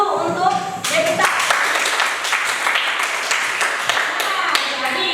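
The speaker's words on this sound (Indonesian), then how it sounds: "Kita kasih aplaus dulu untuk Devita." Classroom applause breaks out for a student, a burst of many hands clapping steadily and fairly close for several seconds, with a voice heard briefly at the start.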